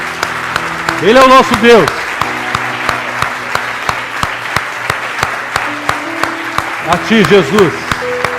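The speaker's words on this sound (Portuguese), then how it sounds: "Vamos aplaudi-lo, Ele merece." A church congregation applauds through most of the passage, dense clapping held under a worship leader's voice that sings and speaks over it, rising in two louder sung bursts.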